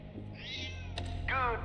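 A pet cat named Lux gives two clear meows, a drawn-out one followed after a short pause by a second, rising call, close to the listener over a low indoor hum.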